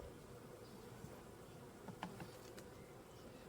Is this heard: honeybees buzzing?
yes